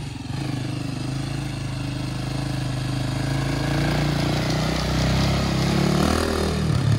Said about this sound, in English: Regular four-wheeler. No, it's super low, so it turns super well.